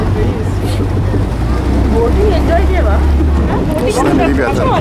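A boat sets off toward Barberyn Island in Sri Lanka, with a low motor drone and wind buffeting beneath people talking nearby.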